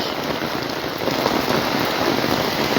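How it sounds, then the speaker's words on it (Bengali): Heavy rain pours steadily during a flood-season downpour, a dense, even hiss of drops drumming on surfaces, close and unbroken, swelling slightly louder partway through. "আল্লাহ ভালো জানে যেভাবে বৃষ্টি হচ্ছে কদিন থাকে বলা যায় না"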